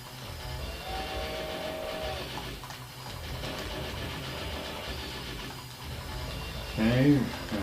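A train rumbles through an Evercade video game, a steady mechanical engine drone with rail clatter, ending in a louder burst of game effects near the close.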